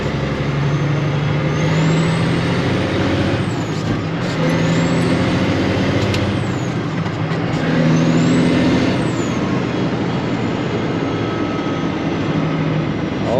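A fully air-ride truck and trailer drives along with a steady, close engine drone and road rumble, and faint rising and falling whines recur throughout with no talking.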